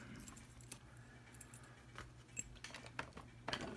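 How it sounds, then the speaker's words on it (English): Keys for a Paclock 200A padlock jangle close by in scattered metallic clinks and rattles, with a louder burst near the end and no voices. "Check out the keys for it."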